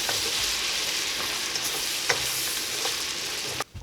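Cheddar smokies browning in a pan in a cabin kitchen sizzle with a steady, dense crackle, with occasional sharper pops and stirring scrapes, then cut off abruptly near the end.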